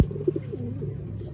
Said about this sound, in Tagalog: Ganda niyang ibon na to